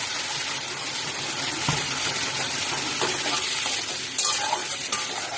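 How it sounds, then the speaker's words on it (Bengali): Spice paste with a little water being stirred and fried in a pan for egg curry with potato and papaya, producing a dense steady sizzle with occasional utensil scrapes and knocks. "মশলাটাকে একটু ভালো করে এটা কষিয়ে নিচ্ছি।"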